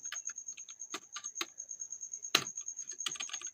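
Code is typed on a computer keyboard in quick bursts of crisp key clicks with short pauses between them, close and fairly quiet, and a constant thin electronic whine runs underneath.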